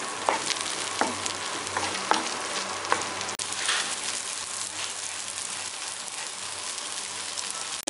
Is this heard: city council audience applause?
no